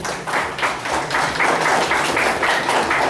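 Audience applause at a municipal awards ceremony for public sanitation workers, a steady wash of many hands clapping for a few seconds with no talk over it.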